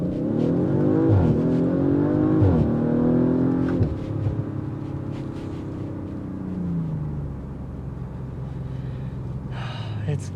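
A 2022 Audi RS5 Sportback launches hard from a standstill in first gear using the Tiptronic, its engine note climbing loud and close through quick repeated rises before settling into a steadier rumbling pull.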